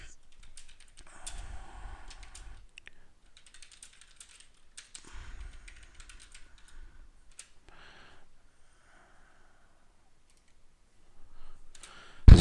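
Keys clatter in quick irregular bursts of typing on a computer keyboard, with pauses between runs and a few sharper clicks near the end.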